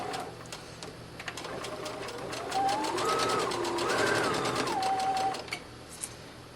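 Sewing machine straight-stitching the hem of an 18-inch doll dress, its rapid even needle chatter running steadily for several seconds, rising in pitch as the speed climbs and then slowing to a stop.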